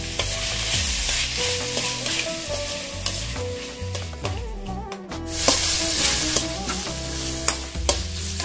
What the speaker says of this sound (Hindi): और फिर इसको अच्छे से मिक्स करेंगे